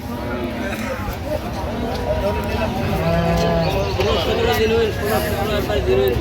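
Cattle at a busy rural market in Dinajpur, with cows and calves lowing amid a loud crowd babble and people talking throughout.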